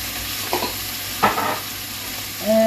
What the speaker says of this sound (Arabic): نحط الصلصه، نحط التوابل، كزبره ناشفه